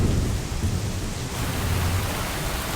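Steady heavy rain with rumbling thunder, a dense continuous wash of downpour and low rolling booms filling the whole stretch, with no voices.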